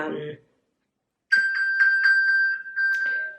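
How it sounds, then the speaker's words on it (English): An iPhone, pinged from an Apple Watch, plays its find-my-phone alert as a run of bright, evenly spaced chiming tones. A brief voice comes before the chimes. "it plays that little sound so you can, find your phone"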